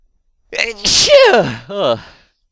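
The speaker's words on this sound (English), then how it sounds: "I have sneeze." A single loud, close human sneeze with a strong voiced, wheezy quality, rising and then trailing off over about a second and a half.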